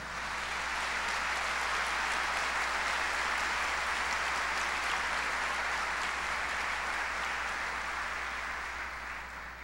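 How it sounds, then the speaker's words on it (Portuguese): Steady, dense applause from a large crowd, sustained and loud throughout with no talking. "Deus merece um aplauso."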